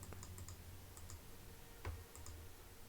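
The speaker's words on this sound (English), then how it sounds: "I'm like clicking around." Several light mouse clicks sound while playing the point-and-click adventure game Lamplight City: quiet, close, scattered taps in small clusters over a faint background hum, with one louder click near the middle.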